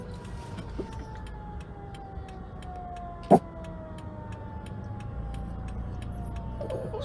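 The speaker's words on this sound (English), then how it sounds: "we have some kind of an ambulance coming here for something" An ambulance siren sounds in the distance, its long sliding wail faint beneath steady car interior road rumble, with a single sharp click partway through.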